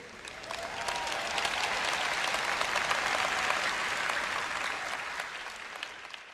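Audience applause following a Christian sermon, a dense wash of clapping that swells in within the first second, holds steady and then slowly fades toward the end, with no one speaking over it.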